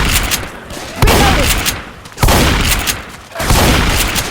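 Bursts of rapid automatic gunfire from a zombie shooting video game, three dense volleys of cracks and booms, each running about a second with short gaps between.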